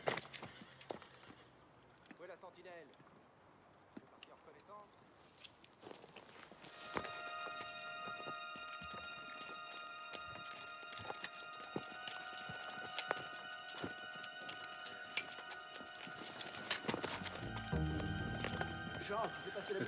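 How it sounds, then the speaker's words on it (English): Horses approaching with steady hoof clip-clops, faint at first and growing closer, with a whinny, under a rising music score and some speech. "Horses. Just horses."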